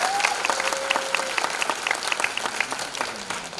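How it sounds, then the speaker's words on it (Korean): An audience at a business presentation bursts into steady, dense clapping that holds at full strength for several seconds, close and loud. "박수 한번 주셔야 됩니다"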